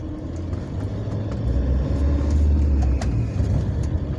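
A Fiat Ducato van pulls away and starts to drive, its engine a steady, loud low rumble that swells slightly as it gets under way, with road noise and no talking.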